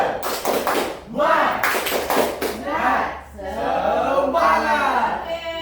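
Schoolchildren in a classroom perform the rhythmic 'tepuk semangat' clapping chant, with quick bursts of claps mixed with loud, close group chanting voices.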